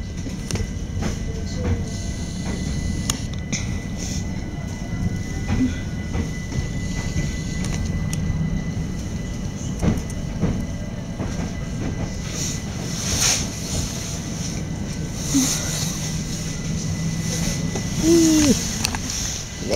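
A London Underground train running, with a steady low rumble and faint rattling in the carriage, moderately quiet and continuous throughout.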